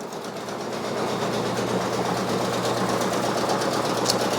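Brother Persona PRS 100 embroidery machine stitching a design, a steady close mechanical whir with rapid even needle rhythm and no voices.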